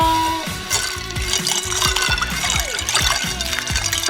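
Cooked noodles doused under an icy water rinse in a kitchen, a continuous close splashing gush with rhythmic sloshing and clatter of the strainer.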